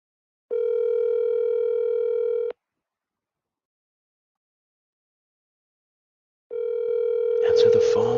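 A telephone ringback tone plays while an outgoing call waits for an answer. Two steady, long buzzing tones are separated by a few seconds of silence, and brief rustling or talk cuts in at the end of the second tone.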